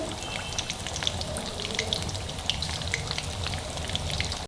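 Chicken fries in a kadhai with a dense, loud, even crackle like rain on a surface, holding steady for several seconds before cutting off abruptly.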